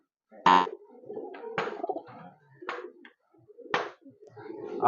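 Pigeons kept by a fancier, a quality breed of abluk pigeon, give four separate bursts of cooing spaced about a second apart. The low throaty calls are close and clear in a quiet loft with no talk.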